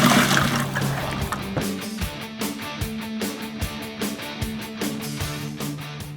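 Water splashes and trickles into a bucket for mixing tile mortar, a steady close pour with rhythmic sloshing pulses, no talk over it.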